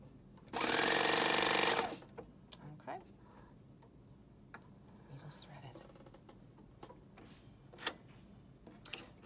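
Cover stitch machine sewing a T-shirt: one loud, dense burst of rapid stitching lasting about a second, followed by scattered clicks and light handling noises.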